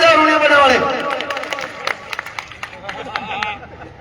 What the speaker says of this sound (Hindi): ताली बजाओ रोनिया बेल्डा वाले